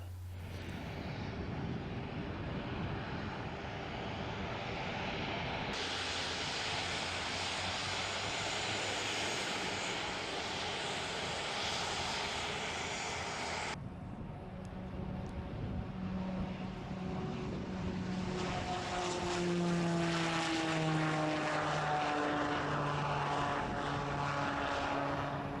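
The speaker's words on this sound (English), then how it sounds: "both turboprop aircraft, a twin-engine Piper Cheyenne, and later a high-performance Piaggio P180 Avanti" A twin-engine turboprop, either a Piper Cheyenne or a Piaggio P180 Avanti, flies past with a steady, loud propeller drone and engine roar throughout, shifting in tone midway as the pitch of its prop tones sweeps down.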